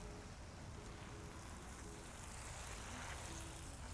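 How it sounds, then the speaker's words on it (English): Garden hose spray watering zinnias on a hot summer morning, a steady continuous hiss of water hitting leaves and soil close by, even and unbroken throughout. "I am gonna take some time right now and water some of the stuff I saw earlier."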